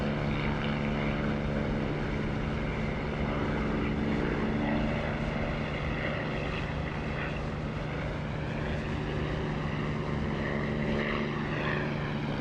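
Propeller aircraft engine drones steadily in a DCS or War Thunder flight simulator, a continuous loud hum with a fixed low tone that holds evenly throughout, heard on a slow approach near a runway.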